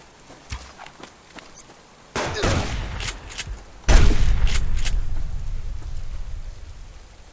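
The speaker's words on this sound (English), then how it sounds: "I'm the one who's got the shotgun." Two heavy shotgun blasts in the survival game Subsistence, the second louder with a long rumbling decay, following a stretch of faint footsteps and small movement sounds.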